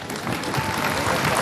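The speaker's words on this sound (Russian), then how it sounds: "И давайте вспомним их сегодня и поблагодарим аплодисментами." A crowd on a city square claps in thanks to mentors and teachers, a thick, even wash of applause blended with general crowd murmur.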